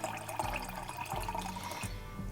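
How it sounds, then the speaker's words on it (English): Water running from a kitchen tap into a jug, a continuous splashing rush with a slight rising fill tone, steady and close, with no voices. "I'm just filling up my water, trying to drink a full jug of water before I go to the office in the morning."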